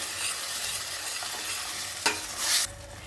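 Ground onion and beetroot paste being sautéed in a pan for pav bhaji, giving a soft steady sizzle with a sharp clack from a spoon partway through and a brief louder burst of stirring, near and fairly quiet, no voices.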